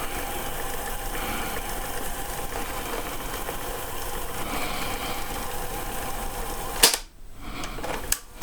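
A cassette player spools tape with a steady, even whir for several seconds, then stops on a sharp mechanical clack followed by a couple of lighter clicks.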